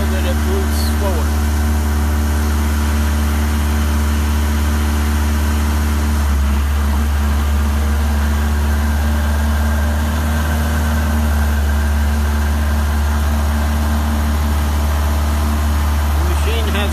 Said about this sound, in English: The machine has a Caterpillar engine.